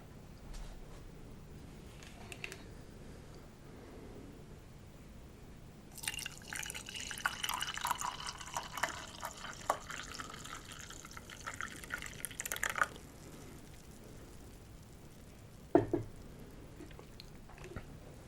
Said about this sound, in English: Let's pour some coffee.